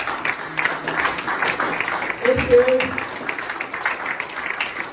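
A church congregation applauds during a Spanish-language sermon, steady clapping carrying throughout under a preacher's voice that keeps speaking.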